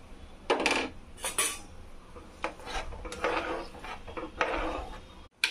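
Chopped capsicum tipped into a pan while cooking butter paneer chilli, with a series of clattering scrapes and knocks of a utensil against the pan, moderately close and uneven in rhythm, no voices.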